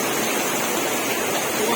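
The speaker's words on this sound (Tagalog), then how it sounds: "Kitang-kita nyo naman gaano kalakas yung ulan dito." Dense, roaring downpour with gusting wind over a flooded highway, a steady loud wash of rain noise with no break and no speech.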